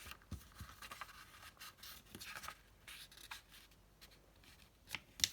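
Paper folded by hand while making a junk journal filler page, a soft run of rubbing and scraping as the sheet is creased and pressed flat, fairly faint and close up, with a few sharper crinkles near the end.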